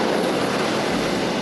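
A helicopter flies overhead near Angra dos Reis, a steady broadband rotor-and-engine roar with no talk.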